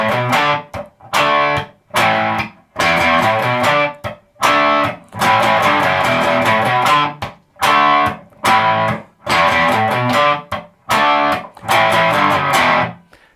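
An electric guitar plays the distorted power chord riff of a song, loud, heavy chord stabs in repeated bursts separated by short silences, with no voices.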